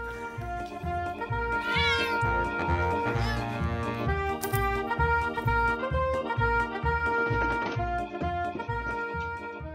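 A cat meows repeatedly and loudly, with drawn-out rising and falling cries over a steady rhythmic musical backing.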